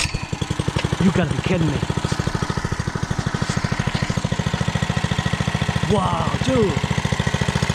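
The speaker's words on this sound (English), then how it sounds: "Here goes the real first pull of this bike." A 105cc mini bike engine idles close by after its first pull, a fast, even putter that stays steady throughout while a man exclaims over it.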